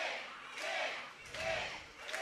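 A wrestling crowd cheers and shouts in support of the Kid, with two rising swells of voices over a constant arena roar, plus a few scattered yells.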